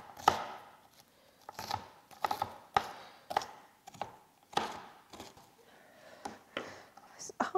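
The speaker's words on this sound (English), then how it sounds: "I guess I just need to frantically chop them" Rapid, uneven knife chops on food hit a cutting board in a quick series of sharp taps, close and fairly quiet, with soft mechanical clicks and faint whispery talk mixed in.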